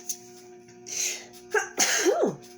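A single sharp sneeze bursts out after a quiet stretch, preceded by a short inhaled buildup, over a faint steady background hum.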